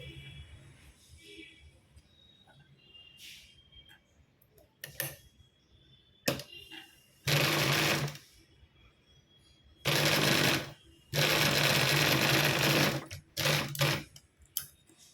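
A sewing machine stitches a folded fabric latkan for a rose flower blouse in several short rattling bursts of one to three seconds each, separated by quiet pauses and faint clicks.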